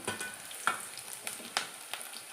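Tempering sizzling in hot oil for tomato chutney, a short close crackle with several sharp spits and pops standing out over a steady frying hiss.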